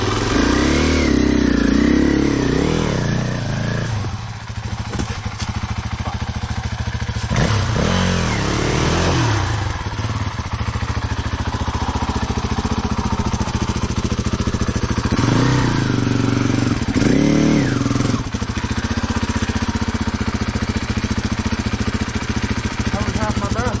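A KTM 500 EXC-F or Gasgas EC 300 dirt bike engine revving hard and close, the pitch rising and falling through repeated throttle blips with mechanical clatter, while a person talks over it.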